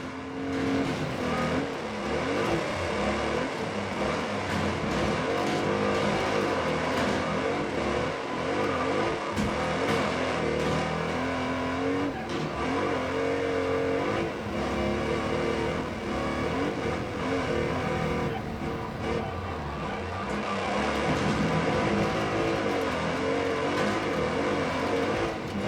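Race car engine roaring from inside the cockpit in the video game Wreckfest 2, loud and continuous throughout with rising and falling revs, gear changes and crunching contact noise, no talk.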